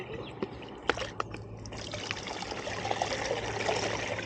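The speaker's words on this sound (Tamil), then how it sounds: "தண்ணி ஊற்றுற சவுண்டு" Water is poured to refill a container during a tree-planting outing, a soft, steady trickle and splash at moderate distance with a few small knocks near the start and no talk.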